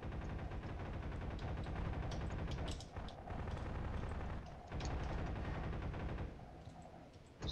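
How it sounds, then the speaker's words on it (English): Rapid, sustained gunfire rattles in dense bursts in a Garry's Mod Prop Hunt game, broken by a couple of brief lulls before resuming. "There's so much gunfire."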